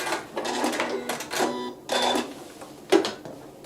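A sewing machine stitching a pillow cover runs in several short bursts of rapid mechanical whirring, separated by brief pauses, close and fairly loud with no talking.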